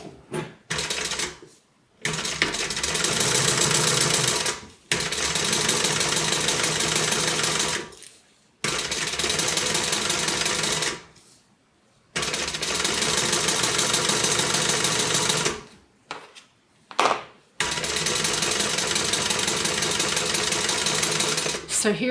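A sewing machine top stitches a tote bag lining in several long, steady runs of fast, even needle chatter, each stopping abruptly before starting again, loud and close with little else between bursts.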